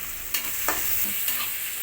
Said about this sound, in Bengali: এখন একটু ভাজা ভাজা করে নেব চিকেনগুলো আর এই চিকেনের মধ্যে আমরা পেঁয়াজ কুচিগুলো ভেজে নিব